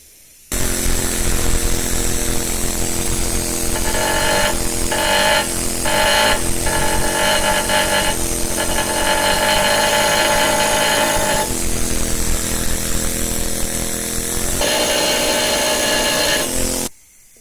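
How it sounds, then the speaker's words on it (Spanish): The most powerful pneumatic hammer in the shop dresses a hard granite gravestone in a long, loud, continuous rapid hammering, with brief pulsing changes in intensity, then stops abruptly. "tengo que darle aún más potencia a este martillo neumático, que es el más gordo que tengo, para que marque bien"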